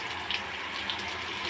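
Tap water runs steadily into a pot set out for cooking rice in a home kitchen, a continuous close hiss with no talking.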